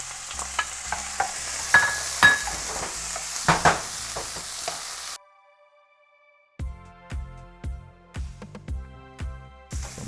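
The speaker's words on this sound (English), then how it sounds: "First of all, of course, we need oil in order to stir fry." Pork stir-frying in hot oil in a pan sizzles and crackles steadily, broken by sharp scraping and clattering strokes of a utensil stirring. The sizzle drops out briefly, then returns with regular stirring knocks.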